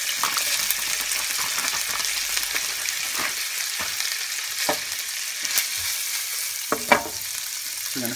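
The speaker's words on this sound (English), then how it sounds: "This is pancetta, and there's 3 grams of carbs in the whole bag. We're gonna fry it up. Got some bacon grease already in here." Pancetta fries in bacon grease with a constant crackling sizzle, broken by occasional clicks and scrapes of stirring in the pan, and there is no speech.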